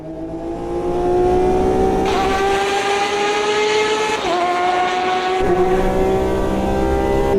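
Race car engine in the sim racing game Automobilista 2 roars loudly and continuously, its pitch climbing steadily through the gears with brief dips at each upshift, heard alone without talk.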